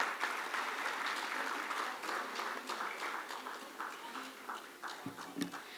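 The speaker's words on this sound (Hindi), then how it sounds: "तालियों के साथ स्वागत" A crowd at an award ceremony applauds steadily, a dense wash of clapping that fades slightly toward the end, with a few louder claps at the close.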